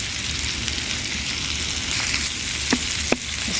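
Onions sizzle steadily in a hot pan, a continuous frying hiss broken near the end by a couple of sharp scrapes and clicks as they are stirred.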